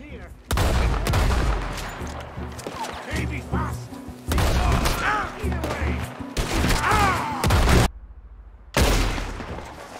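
Bursts of gunfire erupt in a Red Dead video game shootout, loud overlapping shots in clusters broken by short pauses and a brief silence near the end.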